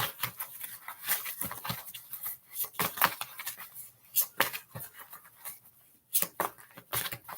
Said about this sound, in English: But while I'm shuffling, we pulling a card for the throat chakra first.